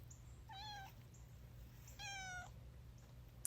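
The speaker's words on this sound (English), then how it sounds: "There's Rascal, my cat." A pet cat named Rascal gives two clear, fairly quiet meows about a second apart in a Michigan garden in fall, with a soft outdoor hum in the background.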